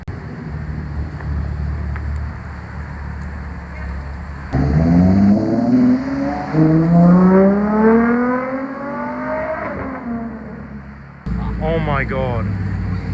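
A Lamborghini Revuelto supercar pulls up while an A12 departs at a car-spotting meet, a loud engine sweep rising and falling close by over wind noise, with a bystander exclaiming.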